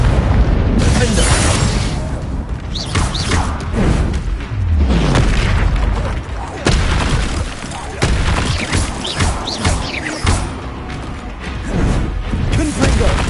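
Repeated Confringo blasting-spell explosions from Hogwarts Legacy boom in heavy bursts with crashing debris and magical whooshes, loud and dense across the stretch, over a continuous backdrop of battle noise.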